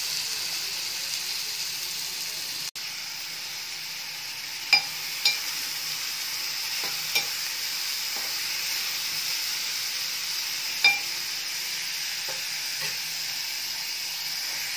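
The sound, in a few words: frying green chillies and onions in hot oil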